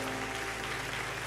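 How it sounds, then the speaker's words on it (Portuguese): A church congregation claps together in a dense, steady burst of applause, filling the room evenly for a moment. "Bota uma salva de palmas para Jesus"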